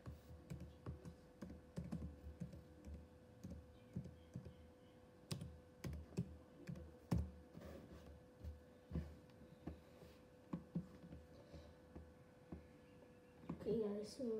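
Keys tapped on a computer keyboard as a password is entered before a Minecraft session, a quiet run of irregular clicks with a low hum and brief talk near the end.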